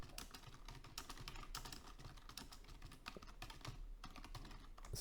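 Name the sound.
typing a message on a computer keyboard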